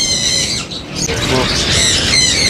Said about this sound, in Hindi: ये डायमंड डब के पेयर्स हैं, ये ब्रीडर पेयर्स हैं